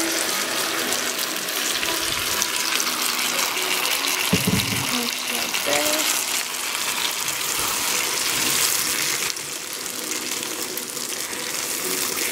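Thick spicy chile salsa pours and splashes into a pot, a gushing, sizzling wash of sound that shifts in texture partway through.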